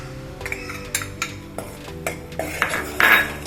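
A utensil scrapes and clinks against a pan while wheat flour and ghee are stirred and roasted for halwa, irregular metallic taps and scrapes over a faint steady background, close by with no talk.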